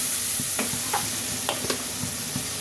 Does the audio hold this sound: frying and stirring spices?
yes